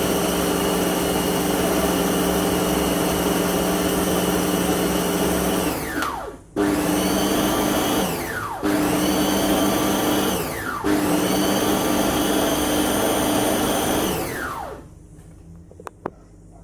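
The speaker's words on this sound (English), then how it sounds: "Food processor was struggling with what I was giving it." A food processor grinding homemade fish food, its motor straining loudly in long continuous runs with brief stops in between, the pitch dropping as it winds down each time, then a small clatter once it stops.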